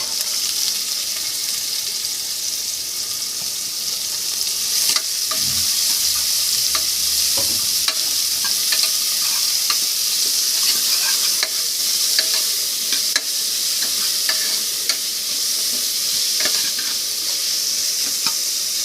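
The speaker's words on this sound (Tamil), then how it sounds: "வெங்காயம் வந்து வதங்கிட்டே இருக்கட்டும்." Chopped onions sautéing in a pan for chicken kurma, a steady close sizzle and fry hiss running throughout with occasional stirring scrapes and clinks.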